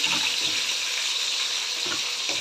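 Sliced onions and green chillies sizzling in oil in a pan, a steady bright hiss with a few soft stirring scrapes, close and without talk.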